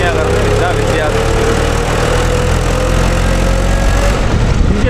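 Diesel engine of a Mahindra 575 DI tractor or JCB 3DX backhoe at a house demolition site, a loud, steady low rumble running evenly throughout, close to the microphone.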